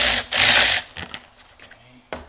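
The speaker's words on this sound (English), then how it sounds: "Then get the spring clamp off the bottom." Metal hand tools work a spring hose clamp on the coolant reservoir of a 2000 Ford F250: a loud harsh scraping rasp, then several short clicks and knocks close by.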